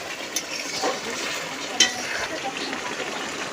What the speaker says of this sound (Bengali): তারপর আমি মাংসগুলো এর মধ্যে ছেড়ে দেব।